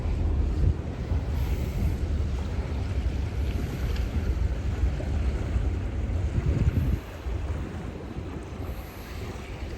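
Boat engines start up on a river ferry on the Lena, a low droning rumble mixed with wind buffeting the microphone and water noise, moderately faint and continuous.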